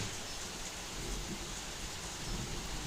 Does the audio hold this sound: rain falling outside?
yes